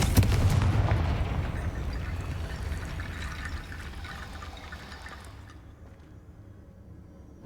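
A Confringo spell blast in a Harry Potter video game: a heavy burst with booming low rumble and crackling debris that slowly decays over several seconds into quiet, with no talking.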